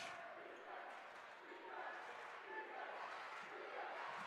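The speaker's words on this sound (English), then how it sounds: "Wolfpack crowd all in. Student section right now in the den" Student section crowd at a boys high school basketball game in Wilkes-Barre roars in a steady, dense wash of cheering and shouting that holds for the whole stretch without letting up.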